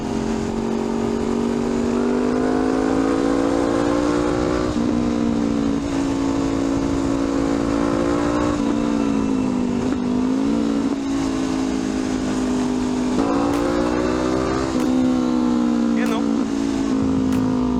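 A Honda CL500 motorcycle engine with a remapped ECU revs loudly and close up, its pitch climbing and falling repeatedly in sustained throttle blips, with a voice talking faintly beneath.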